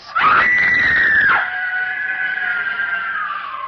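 A girl screams with rage in a radio drama, one long shrill sustained shriek that rises sharply and then trails into a fading howl.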